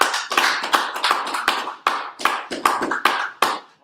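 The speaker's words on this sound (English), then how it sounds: "Clap that for the brother." A small group claps for a brother at a religious class gathering, a steady run of sharp, close handclaps in a loose rhythm with brief pauses between bursts.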